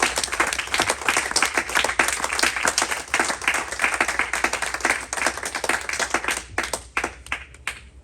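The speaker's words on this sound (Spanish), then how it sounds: "No sé si le damos un fuerte aplauso al Señor." A church congregation breaks into lively applause, many hands clapping in a dense, slightly uneven rhythm that thins out into a few scattered claps before fading.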